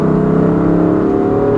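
A 2016 BMW M3 with a straight-six, DCT gearbox, mid-pipe and tune, droning steadily and loudly with a smooth, continuous engine note throughout, no voices.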